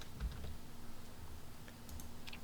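Quiet, continuous typing on a computer keyboard, soft rapid key clicks over a low background hum.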